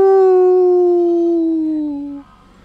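A voice imitates a dog's howl, a single loud, drawn-out tonal wail that slowly falls in pitch for about two seconds before cutting off into quiet.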